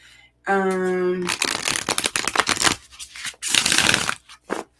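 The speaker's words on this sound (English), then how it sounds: "Make sure I shuffle these up really good." A deck of playing cards being shuffled in a riffle-like burst of rapid papery flutter, with a tonal hum just before it and speech-like chatter continuing over the shuffling.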